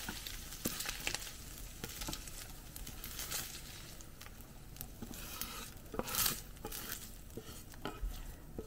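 Fried minced beef mixed with vegetables in a pan for a Scottish beef pie, a steady sizzle with repeated scraping and clinking strokes of a utensil against the pan, close and continuous.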